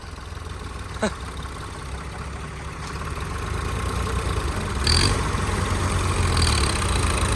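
A tractor engine, stuck in a muddy puddled field, idles steadily with a low, continuous rumble, growing slightly louder midway, with a couple of brief clicks.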